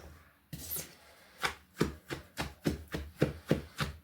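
Shredded cabbage mixed with salt being pounded and ground by hand for sauerkraut; a series of about ten soft, thudding strikes in a fairly regular rhythm, close up, no talk.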